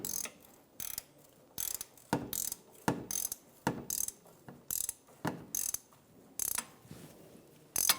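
A hand ratchet snugs a bolt on a Toyota Camry front lower control arm, clicking in short, quick strokes with brief pauses between them, close and clear, with no talk.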